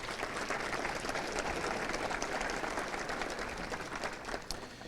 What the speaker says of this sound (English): maybe a brief round of applause for Alex and Kristen